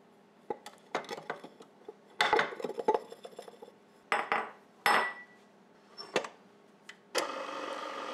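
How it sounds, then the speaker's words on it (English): A spatula scrapes down a mixing bowl of tres leches cupcake batter before the last of the flour goes in, giving scattered clanks, clinks and brief scraping bursts with quiet pauses between them, close by and with no talking. "We're going to do one more scrape down before we add that last bit of flour"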